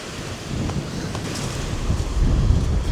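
Strong wind buffeting the microphone at the lakeside of Derwent Water, a loud, rough rumble that rises and falls in gusts, growing stronger toward the end, with no one speaking.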